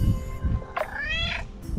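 A cat in the quiet village of Firostefani, Santorini, lets out one clear, close drawn-out meow over low outdoor rumble.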